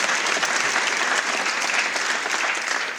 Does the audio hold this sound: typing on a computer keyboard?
no